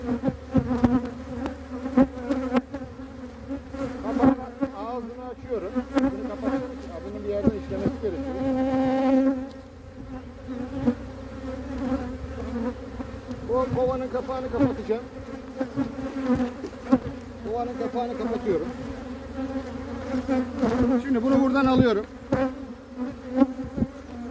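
Dense, steady buzzing of many honeybees close by while a colony is moved from an old hive to a new one, a continuous droning swarm with individual bees passing near, faint rustling in the background.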